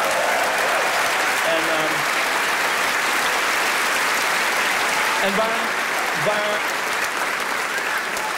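Sustained audience applause fills a concert hall at a live comedy show at Paradiso in Amsterdam, steady and dense throughout, with someone speaking briefly over it near the start and again toward the end.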